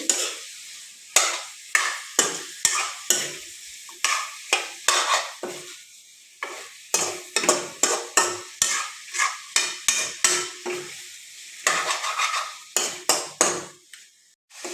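A chicken curry seasoned with cumin and coriander is stirred in a pan, a spoon scraping and clinking in quick repeated strokes over a soft sizzle, close and steady.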